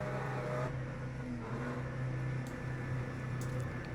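GT3 race car idling and burbling at the line before a race start at Sebring in Le Mans Ultimate, a low steady engine hum with slight pitch wavers, moderately close and unbroken.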